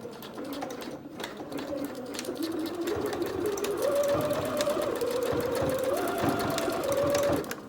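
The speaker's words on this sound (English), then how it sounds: "Now we're gonna zigzag to close each end of the zipper." A sewing machine running a zigzag stitch to close off the zipper ends of a cosmetic bag, a continuous rapid whirring hum that shifts pitch slightly as it goes, fairly close and steady.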